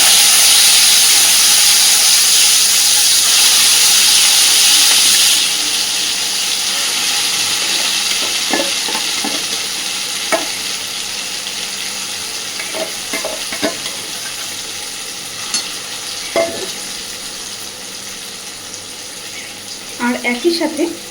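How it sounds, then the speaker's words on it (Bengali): Arum leaf paste with garlic and green chilies hits hot oil over a low flame with a loud hissing sizzle that fades after a few seconds, followed by quieter frying and scattered scraping stirs close by. "এইবার বেটে রাখা পাতাটাকে আমি তেলের মধ্যে দিয়ে দিচ্ছি।"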